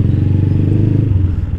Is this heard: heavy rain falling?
no